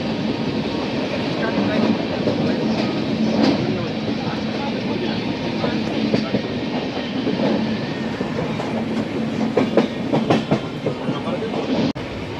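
A passenger train running through the dark night on an Indian route, with a steady rumbling roar and rhythmic clickety-clack of wheels over rail joints, heard from inside the carriage.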